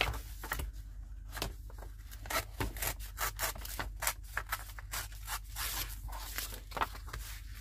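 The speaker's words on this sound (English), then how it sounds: "fold it in half." Paper being folded in half to make a journal pocket gives close, dry rubbing and creasing strokes, a run of quick rhythmic scrapes and swishes at moderate loudness, with no talking.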